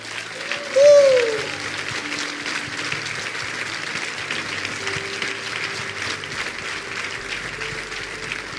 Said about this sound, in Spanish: Le damos un aplauso fuerte.